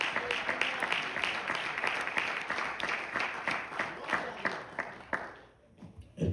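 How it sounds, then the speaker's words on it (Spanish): A church congregation claps together in a sustained burst of dense, quick applause that carries on for several seconds before thinning out and trailing off. "Denle una ofrenda de palmas al Señor."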